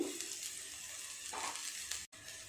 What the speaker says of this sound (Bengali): সমস্ত সবজিগুলো একটু নেড়ে চেড়ে আর একটু ঢাকা দিয়ে ভেজে নেব